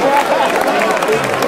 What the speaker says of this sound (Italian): Un applauso per la giuria